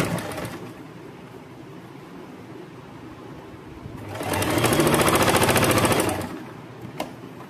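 Sewing machine stitching the shoulder seam of an A-line kurti, a quiet pause followed by a close, loud two-second run of rapid mechanical needle rattle that stops abruptly, with a single knock after.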